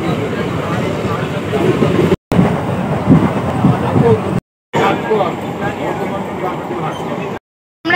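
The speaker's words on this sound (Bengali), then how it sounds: "কারণ এখানে প্রচুর শব্দ হচ্ছে। ট্রেন আসছে যাচ্ছে," Trains arrive and depart at Bardhaman railway station, heard from the platform as a loud, continuous rumbling rail roar. Voices talk over it, and the sound cuts out briefly several times.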